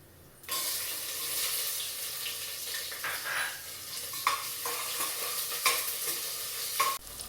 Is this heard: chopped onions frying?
yes